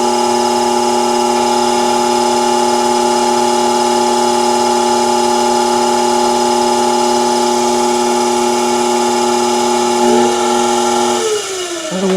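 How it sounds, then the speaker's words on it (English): A 90-volt armature DC motor runs clockwise on a KB Electronics KBCC-225R SCR speed control at 50 volts, giving a steady electric whine with a constant pitch. Near the end the tone briefly shifts as the speed changes. "There's 50 volts positive applied to the DC motor, and we're running clockwise."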